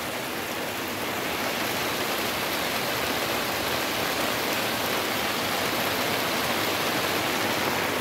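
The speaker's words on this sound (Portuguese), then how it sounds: "a chuva não para, ó" Heavy rain pours down in Aparecida de Goiânia, Goiás, a dense continuous hiss that stays loud and even from start to finish.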